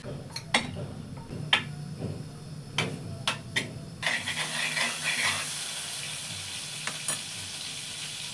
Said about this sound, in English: Let's add some butter into it.